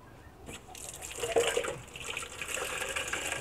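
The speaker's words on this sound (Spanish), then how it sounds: "Aquí lavo el trastecito en esta pila" Dishes being washed in an outdoor sink on a ranch in the morning, with steady running and splashing tap water close by, rising a little midway and continuing throughout.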